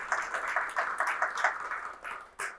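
Audience at a business growth festival applauds a sponsor, a steady rattle of many hands clapping at moderate distance, fairly faint and even, with a slight swell near the end.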